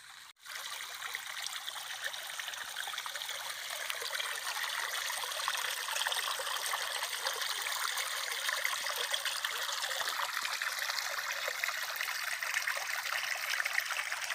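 A small stream on a rural farm property trickles and burbles steadily, a continuous close splashing wash of water with no voices.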